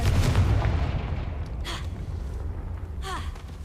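A Confringo fire spell explodes in Hogwarts Legacy, a loud, rumbling boom that opens the clip and rolls into a dense, sustained roar before slowly thinning out.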